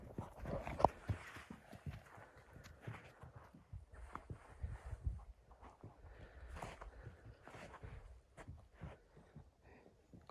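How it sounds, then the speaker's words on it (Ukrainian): Mares 8 to 10 years old, in foal, moving around nearby, their hooves thudding and clopping in an irregular shuffle with scattered louder steps and no talk. "знімаю вам свої кобили. Ось такі кобили."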